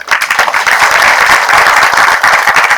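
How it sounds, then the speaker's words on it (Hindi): Audience applause after a chief guest's speech at a Hindi Pakhwada event at NITTTR Bhopal, loud sustained clapping from a large crowd, close and continuous throughout. "धन्यवाद, सबकी तालियां बनती भाई,"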